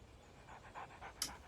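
An injured dog in the video game Alan Wake pants in quick, shallow, breathy puffs. The sound is faint and short against quiet background noise.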